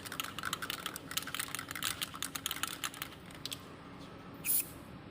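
An Elano sealant spray can is shaken, giving a fast, even run of close rattling clicks for about four seconds, followed by a brief hiss near the end.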